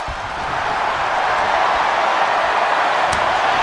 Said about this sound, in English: This crowd doesn't want this match to end